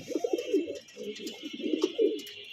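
A caged pigeon coos repeatedly and close, rolling calls in quick succession almost without pause, over faint background hum.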